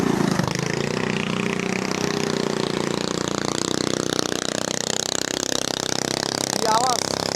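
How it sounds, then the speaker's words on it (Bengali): Motor boat engine on the Sangu river, a steady close drone running throughout as people talk over it. "ওই আমাদের নৌকা যাইতেছে"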